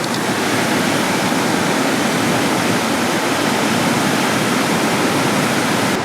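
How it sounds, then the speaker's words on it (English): Small waterfall in Yellowstone, a loud, constant broadband rush of falling water heard up close, with no breaks or talk. "Just a little waterfall action."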